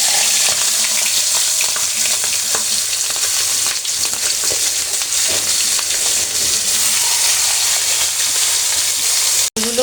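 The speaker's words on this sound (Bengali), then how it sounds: "সরিষার তেল এখানে দিয়ে দিয়েছি, এখন আমি মাছের মাথাগুলো ভেজে নেব।" Fish heads fry in mustard oil with a loud, continuous sizzle and crackle, close and steady throughout with occasional stirring scrapes and no talk.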